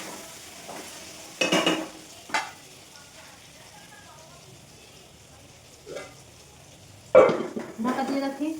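Potatoes frying in a pan give a low, steady sizzle, broken by a few loud stirring scrapes and clatters, with no voices.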